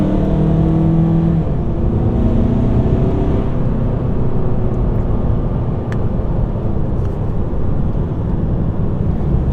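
A Volkswagen Passat GT pulls hard at full throttle, its engine droning loud and steady as the revs climb. Near 5,000 rpm the DSG gearbox upshifts and the pitch drops, then the engine keeps pulling.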